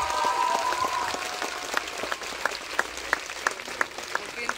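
Concert crowd at an outdoor applause garden claps thinly, with a scattered patter of hands and distinct individual claps standing out, and some voices heard underneath.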